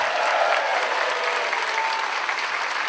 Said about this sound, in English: So round of applause for Delph, please